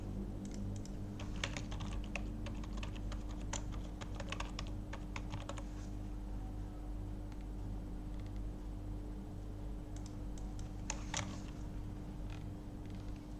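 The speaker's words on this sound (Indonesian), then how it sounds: "kita coba masukkan nama author ya" Computer keyboard typing as an author name is entered, quick irregular bursts of key clicks in two clusters over a low steady hum, fairly faint and without talking.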